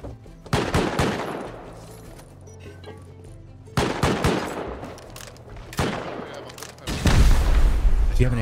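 Gunfire in the Rust survival game during a clan fight: three bursts of rapid automatic shots, close and loud, with heavier booming at the end and a voice talking between bursts.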